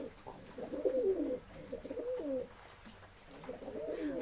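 A newly acquired domestic pigeon coos in soft, repeated low warbling phrases, close up and fairly faint, with no voices, on a rainy day.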